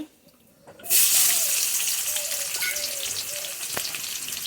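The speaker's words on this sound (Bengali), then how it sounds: "তেলটা আমার গরম হয়ে গেছে, এবার দিয়ে দেব পুরোনে পেঁয়াজ কুচি" Chopped onion hits hot oil in a pan for a vegetable stalk chorchori, setting off a sudden loud, steady hiss of frying that holds on with small crackles, close and alone.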